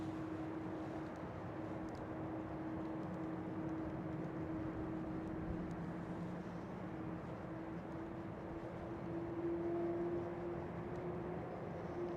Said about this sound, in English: TUI Fly 787-8.